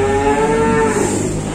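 A single loud, close moo from cattle in a dealer's stock pen holding calves and feeder cattle, a long drawn-out call that fills the whole moment.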